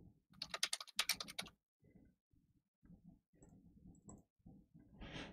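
Bursts of fast typing on a computer keyboard, clattering in quick clusters, then scattered individual keystrokes with short pauses, close and fairly quiet.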